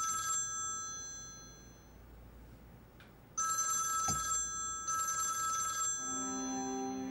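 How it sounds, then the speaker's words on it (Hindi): A telephone rings in repeated electronic bursts separated by short pauses, clear and fairly close, with no talking over it. "किसी आमना का फोन आ रहा है।"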